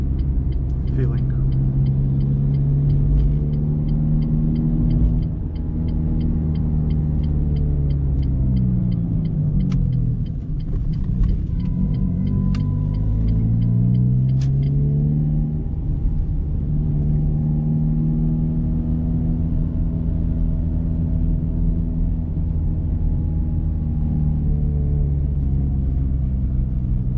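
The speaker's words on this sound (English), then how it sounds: "A knocking sound and also a grinding one, some metal grinding" Renault Clio on the road with a knocking fault and metal grinding, heard as a steady low engine and road rumble with shifting tones throughout, plus a rapid clicking rattle during the first half.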